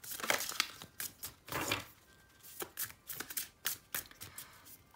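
Tarot cards are shuffled and drawn close up, with rapid riffling bursts and softer slides and flicks of card stock coming in uneven clusters, with no voice.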